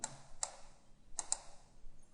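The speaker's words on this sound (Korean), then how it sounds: "값은 드래그 선택해서 키보드상에 딜리트키 눌러서 지우겠습니다" Computer keyboard key pressed at a desk during 3D CAD modeling work, a few sharp close clicks spaced irregularly over a quiet background.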